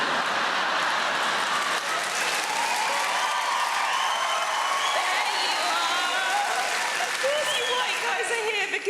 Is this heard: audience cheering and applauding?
yes